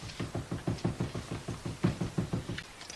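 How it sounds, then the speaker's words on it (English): Muffled thumping comes through a wall from next door, a steady run of about fifteen dull, low knocks in a fast, even rhythm, fairly faint and heard from a distance. "That thumping noise, can't you hear it? It's next door."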